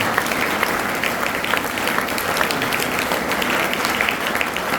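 Audience applause rising to welcome a guest at a school Praveshotsav enrolment celebration, a steady dense crowd of clapping hands sustained from start to finish.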